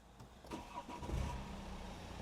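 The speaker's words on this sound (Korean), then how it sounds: "시동을 한번 걸어 보겠습니다." A high-mileage Hyundai Sonata's engine cranks and catches, rising to a rough, low rumble before settling into a steady idle, heard close and fairly quiet.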